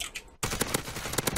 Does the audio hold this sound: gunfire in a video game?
yes